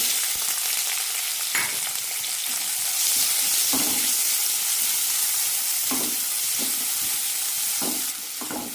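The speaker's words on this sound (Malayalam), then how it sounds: "വാഴയ്ക്ക വറുത്ത അതേ എണ്ണയിലേക്ക് തന്നെ ചെറിയ ഉള്ളി ഇട്ട് കൊടുക്കാം" Small onions sautéing in hot oil left from frying raw banana, a steady close sizzle with occasional stirring scrapes, no voices.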